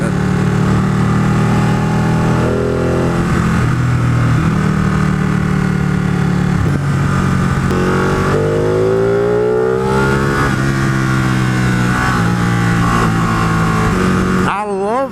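A 2016 Ducati 959 Panigale sport motorcycle engine revs repeatedly, pitch climbing and falling in loud close bursts, with a brief whine near the end.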